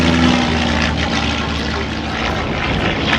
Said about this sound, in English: Airplane's overall at high speed